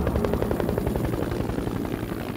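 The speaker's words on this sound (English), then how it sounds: "The helicopter came in from Elizabethville." A helicopter flies in with a loud, steady rotor thump that fills the whole stretch without any other sound.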